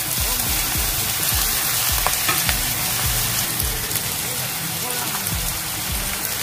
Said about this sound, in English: इसके साथ we will fry nicely this